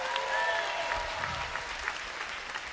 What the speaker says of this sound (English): By round of applause, where are my first-time guests?